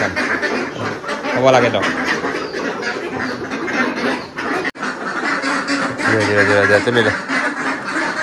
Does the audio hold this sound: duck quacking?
yes